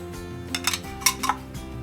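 Raisins dropped into a metal frying pan while sheer khurma is cooked, a few quick light clinks and rattles against the pan over a low steady kitchen hum.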